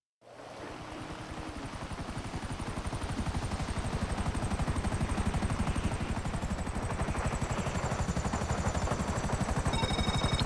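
A helicopter in GTA 5 Online touches down on a helipad, its loud, steady rotor chop beating rapidly and continuously at close range with a whining turbine above, building slightly as it settles.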